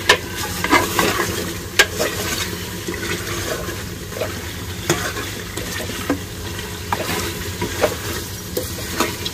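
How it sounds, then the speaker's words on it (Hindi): Bone-in mutton fries in a pan over lowered gas, a steady sizzle punctuated by repeated sharp clacks and scrapes of a spoon stirring the meat up close. "तो लगभग हमारा गोश्त बिल्कुल भुन के तैयार हो ही गया है"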